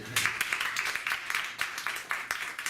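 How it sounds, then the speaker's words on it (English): A Shakespeare book club audience applauds to vote for a version of a play, a steady, moderately loud patter of many clapping hands with rhythmic pulses running through it and no talk. "applaud loudly and proudly for that one"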